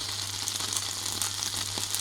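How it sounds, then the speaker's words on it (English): Russian military ration vegetable caviar sizzling and spitting as it heats on a small field stove, a steady close frying crackle with scattered pops and a low constant hum beneath, no voices. "Sizzling and spitting."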